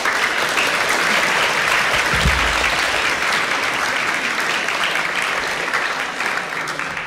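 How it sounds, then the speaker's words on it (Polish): Audience at a 2022 election debate breaks into sustained, loud applause lasting several seconds, steady and dense clapping that slowly tapers. "Gorące brawa."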